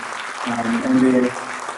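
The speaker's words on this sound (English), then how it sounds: "Another round of applause for them." An audience at a Guru Poornima gathering in Auckland gives a brief round of applause for a children's performance, with the clapping swelling in the middle and a voice talking over it.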